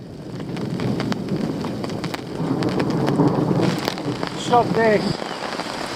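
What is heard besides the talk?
rain falling on a fishing bivvy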